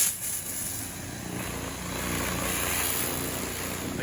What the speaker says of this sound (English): Now for a very good pressure wash